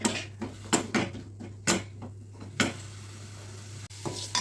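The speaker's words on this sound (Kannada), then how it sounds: "tomato fry ಮಾಡ್ಕೊಳ್ಳೋಣಂತ" Tomatoes frying in a pan while being stirred, with a quiet steady sizzle under sharp metallic scrapes and clinks of a spoon against the pan, alone with no talk.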